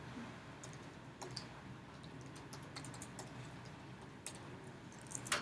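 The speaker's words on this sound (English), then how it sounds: "I'm going to type that in." Keys are tapped on a keyboard to enter a calculation, a quiet, close run of light clicks in an irregular rhythm over faint background hiss, with no talking.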